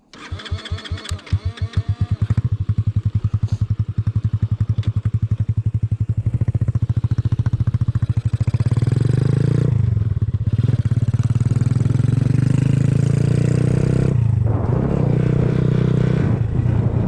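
A 2020 Vader Grom clone mini motorcycle rides around town, its small engine revving up through the gears with a steady buzzing drone, loud and close, easing briefly between shifts.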